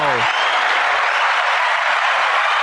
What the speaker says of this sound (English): why is there a round of applause?